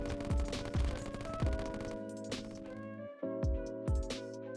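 A rapid-fire gun in the video game Terraria shoots in fast repeating bursts, loud and synthetic, over layered game music and effects.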